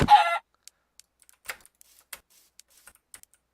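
A chicken in the Minecraft video game lets out a single short, bright cluck right at the start, followed by quiet scattered clicks of game or keyboard noise.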